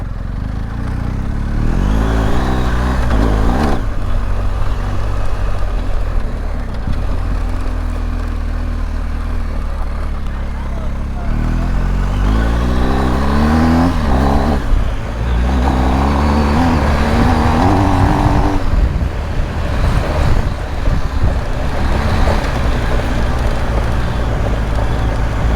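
A BMW R 1250 GS Adventure motorcycle is ridden, its engine rising and falling through several rev and acceleration sweeps over a loud, continuous rumble of wind and road noise.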